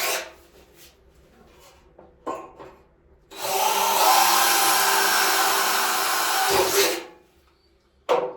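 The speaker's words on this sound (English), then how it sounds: "I gotta drill a pilot hole because I got some big badass sheet metal screws." A power drill bores a pilot hole through heavy sheet metal inside a home-built personal submarine, one sustained loud whir of about three and a half seconds, then a sharp clunk afterward.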